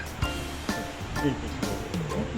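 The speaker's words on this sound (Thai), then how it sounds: "เราเดินมาที่ทะเลแล้ว" Sea waves washing onto the beach at Hua Hin, a steady rushing surf with soft recurring swells, close and moderately loud, with no talking.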